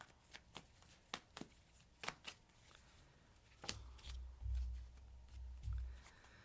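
Tarot cards being shuffled by hand, a run of crisp riffling snaps near and clear, then softer rustling handling with low thumps at the end.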